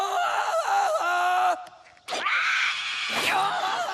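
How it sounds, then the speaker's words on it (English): A cartoon jungle yell from George of the Jungle rings out in a high, warbling voice, breaking off for a moment and then resuming with rising, wavering calls, loud and close. "A clear jungle yell tells everyone you're ready to swing."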